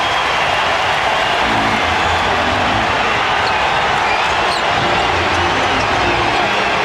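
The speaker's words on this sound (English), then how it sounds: "Listen to this crowd." Roaring basketball arena crowd at a 1997 NBA playoff game, cheering loudly and continuously after a tying basket late in the fourth quarter, a dense sustained wall of noise with no break.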